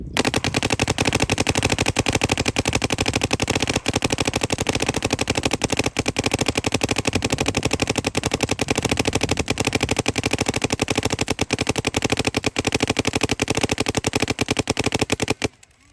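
Paintball marker firing in one long unbroken full-auto burst for about fifteen seconds, fed by a Bunkerkings CTRL 2 loader, loud dense rapid popping that cuts off abruptly at the end.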